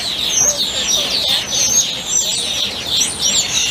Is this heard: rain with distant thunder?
no